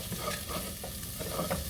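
Butter melting and sizzling in a hot pan as sauteed seafood-boil ingredients are stirred, a steady close crackle with scraping stir strokes, no talking.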